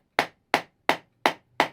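Five sharp, evenly spaced knocks of a mallet striking a carving tool, each crisp and close with a quick decay.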